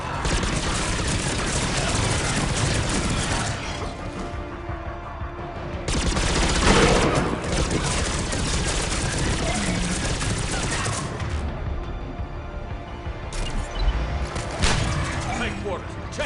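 Sustained gunfire from a Mass Effect 3 firefight, with dense bursts rolling on through the whole stretch and short lulls, loud and busy, with some voices mixed in.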